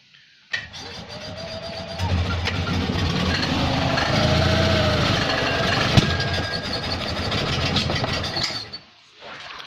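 Engine of an Invacar, a small invalid carriage, cranking and briefly catching while starved of fuel, a steady mechanical churning that runs close and loud for about eight seconds before cutting off abruptly.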